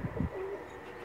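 A racing pigeon gives a brief, low, throaty coo close by, fading into quiet background noise.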